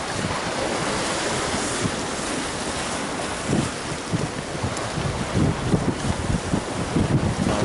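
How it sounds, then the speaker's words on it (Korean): Strong wind buffets the microphone in a constant roar at the shore while lure fishing for hairtail on foot near Busan, gusting harder toward the end, with the wash of water in the background. "대체 바람 소리 때문에 소리는 잘안 들리는데"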